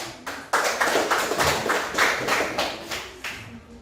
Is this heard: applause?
yes